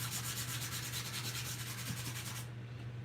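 Charcoal rubbed steadily across a sheet of paper in a continuous, close, scratchy back-and-forth texture with a faint low hum beneath, stopping abruptly near the end.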